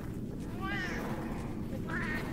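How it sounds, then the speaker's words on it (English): Cats in the video game Monster Hunter 3 Ultimate give two short meows, a fainter one early and another near the end, over a steady low game backdrop. "This is where all the wild cats live out here."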